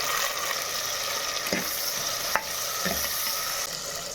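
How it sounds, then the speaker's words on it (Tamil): Onion and tomato sautéing and being stirred in a clay pot for fish curry, with a steady close sizzle, a few stirring scrapes and no talking. "தக்காளி சேர்த்துட்டு ரொம்ப அதிகமாக வதக்கணும்னு அவசியம் இல்லை ஒரு ஒரு நிமிஷம் வதக்கிக்கலாம் போதும்"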